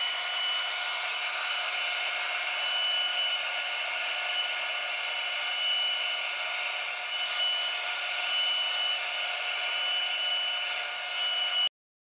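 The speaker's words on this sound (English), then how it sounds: "So I'll get the dust collection turned on, I'll turn the router on, I'll hit continue," Onefinity CNC router surfacing an MDF spoilboard with dust collection running, a steady, loud, continuous machine whine and rushing airflow with no talking, cutting off abruptly at the end.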